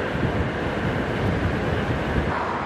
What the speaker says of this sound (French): J'espère que vous n'entendez pas trop le vent, parce que là, ça souffle, hein.